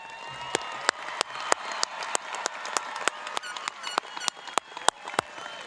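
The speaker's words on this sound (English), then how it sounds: "Help me applaud the graduates." Audience applause at a 2021 high school graduation ceremony comes as sparse, distinct claps, fairly distant and faint, in an irregular rhythm without talk.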